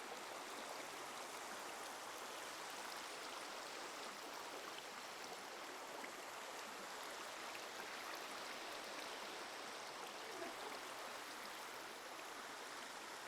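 Flowing water in Minecraft rushes steadily like a stream, an even, unbroken hiss of moving water at a constant moderate level throughout.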